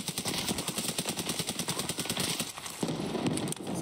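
Rapid automatic gunfire in the Escape From Tarkov shooter game, a dense steady burst of close, loud shots for most of the time, briefly pausing before resuming with a few more rounds.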